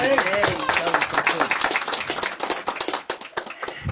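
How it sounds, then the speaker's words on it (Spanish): Congregation at a family church service clapping loudly and close, dense uneven hand claps that thin toward the end, with a voice speaking over the start. "damos un fuerte aplauso"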